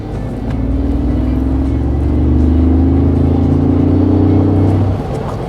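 Simulated combustion-style engine note from an electric Mercedes G 580 in sport mode, imitating a G63: a steady, loud low drone with rising harmonic tones like revving, continuous throughout with no talking.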